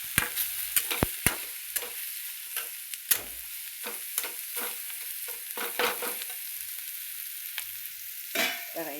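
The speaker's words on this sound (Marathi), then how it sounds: "आता हे सगळं हलवून" A spoon stirs cabbage with turmeric, red chili powder and salt in a hot pan, giving close scraping strokes over a steady soft sizzle of frying.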